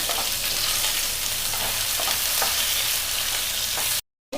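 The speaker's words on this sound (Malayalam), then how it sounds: "കുറച്ച് വറ്റൽമുളക് ഇട്ട് കൊടുക്കാം." Dried red chillies and curry leaves fry in hot oil for a chammanthi, giving a loud, steady sizzle with a few stirring scrapes before it cuts out abruptly.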